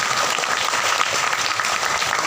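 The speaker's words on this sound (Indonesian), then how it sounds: "Tepuk tangan untuk Bapak dan Guru." Dense applause from a religious gathering honouring teachers, many hands clapping at a steady, even level throughout, with faint crowd murmur underneath.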